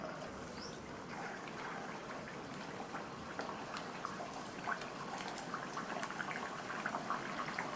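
Rava vadai frying in hot oil make a steady, dense sizzling and bubbling crackle that holds evenly throughout, close up, with no voices.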